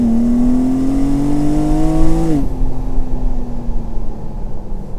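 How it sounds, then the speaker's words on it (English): A BMW M2 engine climbs in pitch under load, then drops sharply as it downshifts into second gear and settles into a lower, steady drone. The sound is loud and close. "Downshift, downshift, third gear. Whoa, second gear"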